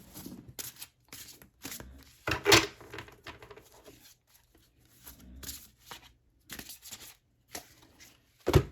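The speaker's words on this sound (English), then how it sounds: "I'm struggling with the shuffle." Tarot cards are shuffled in repeated quick riffling bursts with short pauses between, close by and fairly quiet, with no talking.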